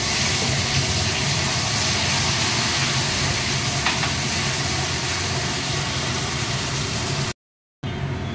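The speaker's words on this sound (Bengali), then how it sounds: "এটা কষানো হচ্ছে।" Ground spice paste sizzling steadily in a hot pan as it is sautéed for a Bengali dinner, a continuous dense hiss and crackle, loud and close, cutting out briefly near the end.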